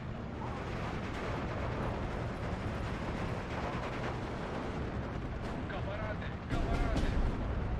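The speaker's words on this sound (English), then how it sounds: "75mm was also firing" Steel Division 2 wartime battle with a 75mm gun firing amid continuous rumbling combat, dense booms and crackling gunfire, with a heavier, louder report near the end.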